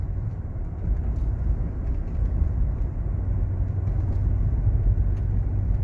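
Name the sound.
1989 Lincoln Town Car driving down the road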